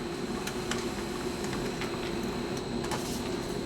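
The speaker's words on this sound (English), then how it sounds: "It goes right to the printer here." A printer attached to a LabQuest unit printing a graph, a quiet steady mechanical hum with faint irregular ticks and clicks from the print head, running continuously without talk.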